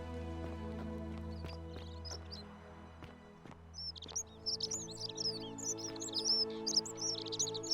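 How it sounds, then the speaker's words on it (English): Loud, rapid bird chirps and twittering from the video game The Forgotten City ring out over a steady droning game ambience, with scattered soft clicks and footstep-like taps beneath. "That bird is really loud."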